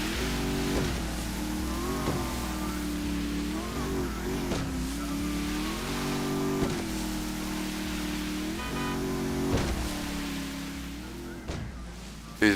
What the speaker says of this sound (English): These big boats just eat these bad waves like it's nothing.